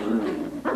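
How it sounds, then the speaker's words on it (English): Puppies play close to the microphone, giving short high yips and soft whimpering noises in quick bursts. "we'll let these little puppies play on their own for a while"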